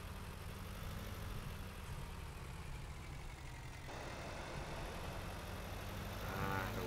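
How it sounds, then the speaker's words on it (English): A Ford tractor pulling a Ford baler in Farming Simulator 19, a continuous low engine drone running steadily at constant loudness for several seconds, without talk. "With our Ford baler and our Ford tractor working together."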